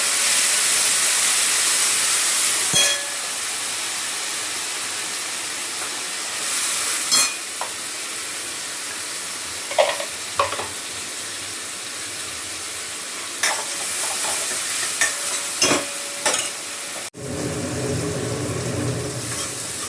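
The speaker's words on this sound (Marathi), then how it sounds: "टमाटा परतून घेते जरासा." Tomatoes being sautéed in a pan after cumin, garlic, curry leaves and onion, with steady sizzling hiss and repeated scraping stirs, plus a few clinks and a louder burst of frying near the end.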